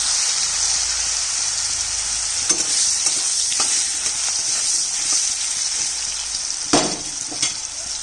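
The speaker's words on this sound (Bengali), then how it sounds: "এবার দিয়ে দিচ্ছি কাঁচা কলাটা" Raw green banana fries in hot oil with a steady, dense sizzle, broken by a few sharp stirring scrapes and crackles; no voices.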